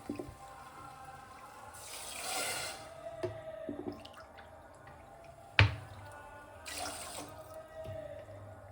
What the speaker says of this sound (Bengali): এবার জল দিয়ে দেবো আমি এই বাটির